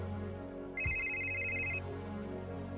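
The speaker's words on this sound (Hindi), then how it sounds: "तभी इतने में अचानक फिर एक बार उसके फोन की घंटी बजती है।" A mobile phone ringtone chirps once as a steady bright electronic tone over a continuous low background hum, lasting about a second.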